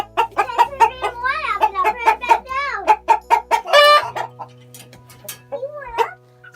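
A caged rooster lets out a rapid run of loud, close clucks and squawks that rise into a brief burst of agitated calling, then settles to a few scattered clucks over a low background hum.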